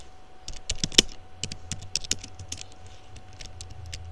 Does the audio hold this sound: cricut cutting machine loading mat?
no